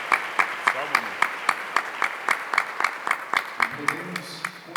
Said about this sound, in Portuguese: Vamos aplaudir com alegria o Santo Evangelho, essa palavra que nos liberta,